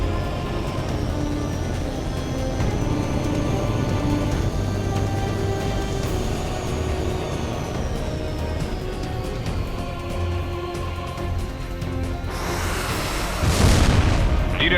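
In the H.A.W.X 2 air combat game, strikes land on ground targets amid steady roaring jet engine noise, and a louder burst of blasts swells near the end. Pilot radio voices come and go underneath.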